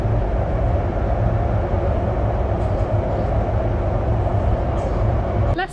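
A train at Agra railway station in India gives a loud, steady, low rumble that runs unbroken for several seconds, with no voices, then cuts off abruptly at the end.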